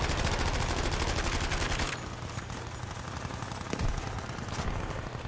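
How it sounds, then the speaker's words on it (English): Rapid machine gun suppressing fire in Battlefield V rattles loudly and continuously for about two seconds, then gives way to scattered distant gunshots and battle noise. "Oh, suppressing fire."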